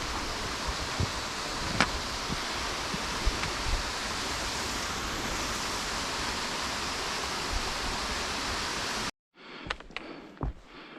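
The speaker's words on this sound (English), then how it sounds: "The Wardbrook Cascades." The Wardbrook Cascades waterfall in the Adirondack mountains gives a steady broadband rush of falling water, dense and continuous, which cuts off abruptly near the end to a few faint rustles and clicks.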